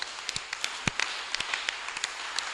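A church congregation applauding, scattered claps ringing out at moderate distance, thin and fairly faint.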